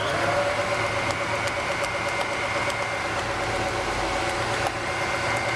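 A PFT Ritmo L plus plastering machine pump runs at a steady, loud drone with a constant mechanical hum and faint rhythmic ticking, and no voices are heard.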